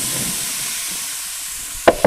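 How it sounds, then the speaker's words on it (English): Vegetables sizzle in a grill basket over a medium-heat gas grill, giving a continuous broad hiss that holds steady, then two brief sharp clanks near the end as the food is moved. "Sizzle, sizzle, baby."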